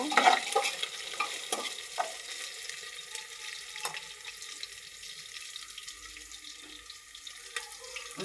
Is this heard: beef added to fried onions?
yes